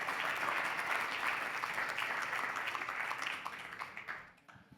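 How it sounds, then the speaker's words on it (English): Audience at a Bitcoin custody conference panel applauds steadily as a panelist is introduced, a dense sustained clapping that fades out near the end. "Can we get a huge round of applause for Luca?"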